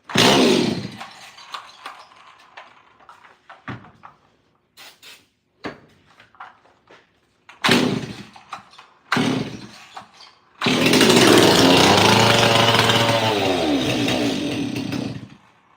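A Stihl 026 Pro chainsaw is pull-started in a cold shop: several sharp starter-cord pulls and short sputters, then the engine catches and runs loudly and continuously at close range.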